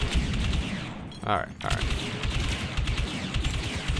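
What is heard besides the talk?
gunfire in the video game Battlefront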